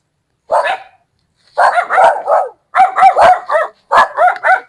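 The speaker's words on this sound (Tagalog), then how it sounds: "May aso." A dog barks repeatedly at close range outdoors in a rural Philippine setting, a single bark followed by three rapid bursts of several barks each, loud and alone with no talk over it.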